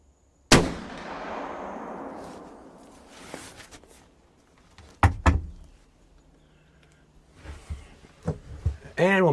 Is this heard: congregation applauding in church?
no